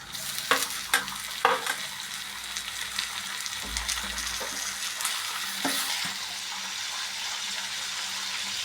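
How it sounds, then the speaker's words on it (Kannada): Chillies and tomatoes fry in oil for egg biryani, with a loud close sizzle, sharp spoon scrapes and knocks against the pan in the first seconds, then continuous frying hiss with occasional stirring. "ಇದನ್ನು ಕೆಂಪಾಗಿ ಫ್ರೈ ಮಾಡ್ಕೊಳ್ಳೋಣ"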